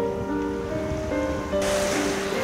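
Surf rolls in at Nakagawara beach in Tsu, Mie, a steady wash of waves overlaid with tonal hum and wind buffeting the microphone, growing louder near the end.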